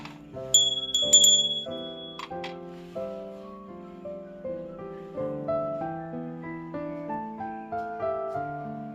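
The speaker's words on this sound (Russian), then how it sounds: "Колокольчики." Small decorative Christmas bells ring out in a clear, bright jingle at first, then settle into a gentle sequence of sustained chiming tones that carries steadily throughout, with no voices.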